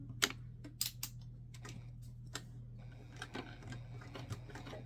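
A sewing machine top-stitches a vinyl clutch at an eighth-inch seam allowance, a quiet, close, steady mechanical whir punctuated by a few sharp clicks and taps.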